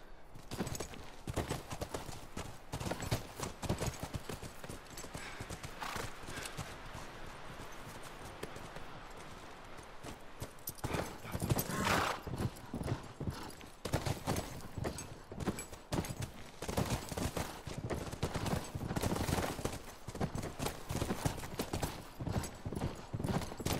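Horse hooves clip-clop steadily in The Last of Us, a close, rhythmic walking gait of sharp hoofbeats continuing for the whole stretch, briefly quieter in the middle before resuming loudly, with no talking.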